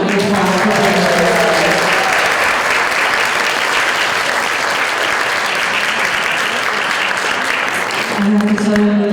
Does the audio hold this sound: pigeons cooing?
no